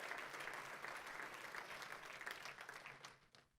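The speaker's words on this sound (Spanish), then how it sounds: "Denle un fuerte aplauso al Rey de la Gloria." Audience applause at a Spanish-language church service, a dense sustained clapping that thins out and fades toward the end, with no talk over it.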